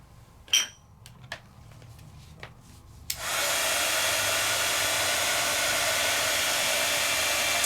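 A heat tool drying ink: a few faint clinks, then a loud, steady blowing roar switches on and runs without a break to the end.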